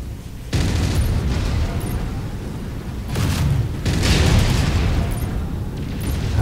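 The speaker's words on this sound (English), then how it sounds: "Ah, auto cannon," An autocannon fires in MechWarrior 5: Mercenaries, loud heavy booming bursts in a rough repeating rhythm over rumbling mech noise, with no talk.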